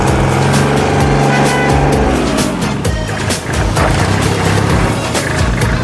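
A used 2008 Kubota L3408DT four-wheel-drive tractor runs loudly and close by, its diesel engine holding a steady throbbing drone that wavers in pitch, with no voices over it.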